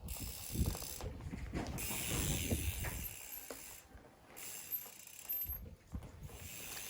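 A bicycle freewheel clicks and ticks as the bike coasts and leans through tight corners in a backyard, faint ratcheting bursts broken by brief pauses, with wind and outdoor noise around it.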